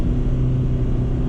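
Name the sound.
small car engine droning uphill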